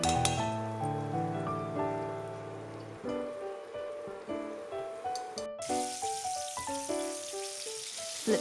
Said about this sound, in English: Scoop a couple of tablespoons of the blueberry butter and drop them slowly into the hot oil